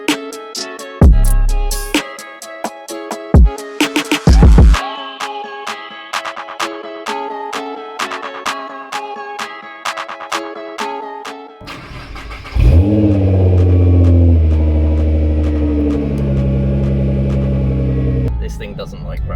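A modified performance car's engine starts with sharp throttle blips and revs, then roars loudly as it pulls away and accelerates, close and powerful.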